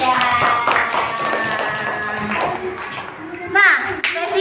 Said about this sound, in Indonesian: Tepuk tangan untuk Febian